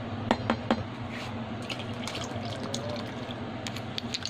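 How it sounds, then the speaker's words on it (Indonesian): Full cream milk, 400 ml, is poured into batter, a soft liquid trickle and splash close by with a few light knocks at the start. "selanjutnya tambahkan 400 ml susu full cream."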